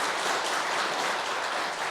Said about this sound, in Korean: 다시 한번 우리 하나님께 영광의 박수 올려드리겠습니다.